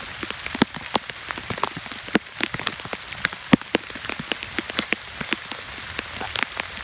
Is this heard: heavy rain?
yes